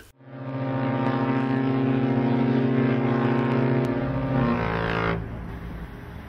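A loud, steady horn blast from a cruise ship passing offshore near Cordouan lighthouse in the Gironde, droning with rich harmonic tones for several seconds before cutting off into low rumble.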